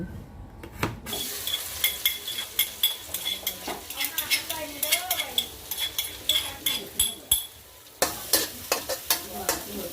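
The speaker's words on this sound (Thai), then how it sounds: "ผัดปูดำค่ะ ผัดใส่พริกตำบ่ ใส่พริกแห้งกระเทียม" Black crab stir-fried in a pan with dried chili and garlic: steady sizzling with a rhythmic series of scraping, clanking spatula strokes against the pan, close and fairly loud.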